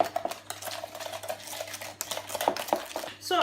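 A tea tree sugar face scrub is stirred in a container with a utensil, giving close, gritty scraping and clicking strokes in a quick uneven rhythm, with no talking.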